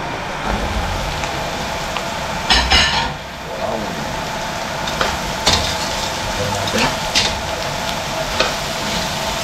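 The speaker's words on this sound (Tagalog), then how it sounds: "Ngayon po ilagay natin yung patola" Sponge gourd (patola) dropped into a pan of sautéed foraged mushrooms, a steady sizzle with occasional clatter of stirring, close and moderately loud.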